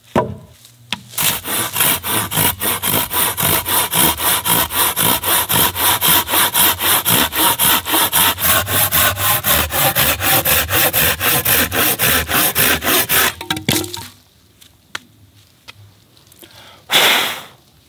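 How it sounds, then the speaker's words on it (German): A hand saw cuts through wood in fast, even back-and-forth strokes, loud and close, for about thirteen seconds, then stops with a few scattered knocks and a final rasping pass. "Ich würde sagen, wir sägen, legen wir los."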